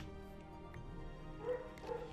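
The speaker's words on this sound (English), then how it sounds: "And my dogs are barking." Dogs in the Minecraft video game give a couple of short, yippy barks and whimpers near the end, moderately loud over faint game background sound.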